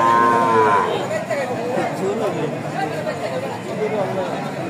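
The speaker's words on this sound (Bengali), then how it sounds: "হাটের সুন্দর আরেকটি গরু দেখাচ্ছি, হলিস্টাইন ফ্রিজিয়ান।" A Holstein Friesian cow at the Hazratpur cattle market lows in a long, loud moo near the start, with further lowing and crowd chatter filling the busy market around it.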